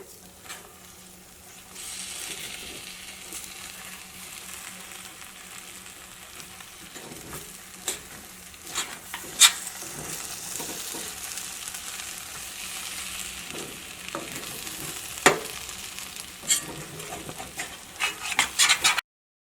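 Sweet laddu mixture is stirred in a pan over the flame, giving a steady scraping and soft sizzle with scattered clicks and taps of the spoon against the pan.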